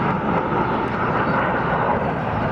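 U.S. Navy Blue Angels jets passing overhead at an air show, a loud sustained roar of jet engines that fills the moment without a break.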